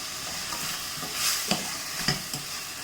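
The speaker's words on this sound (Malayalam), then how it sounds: "ഇനി നമ്മളുടെ സെലറി കട്ട് ചെയ്ത് വെച്ചിരിക്കുന്നതും കൂടി ചേർത്ത് കൊടുക്കാം." Chopped celery and vegetables sauté in a pan for a paneer vegetable curry, a soft continuous sizzle broken by several sharp scrapes of a spoon stirring, with no one talking.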